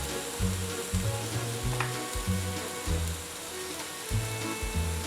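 Oil sizzles in a hot pan on a home stove while cooking cauliflower fried rice, a steady crackling fry with rhythmic low knocks and scraping from stirring or moving the pan.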